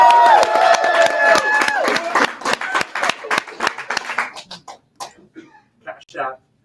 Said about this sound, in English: Another round of applause for Dave Berlin